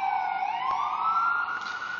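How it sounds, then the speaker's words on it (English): An emergency vehicle siren wails outside, a steady tone slowly sliding upward, fairly loud and sustained with no talking. "I'm just waiting for the siren to go away."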